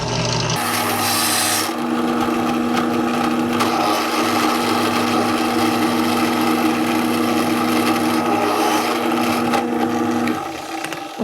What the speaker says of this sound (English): So let's start drilling.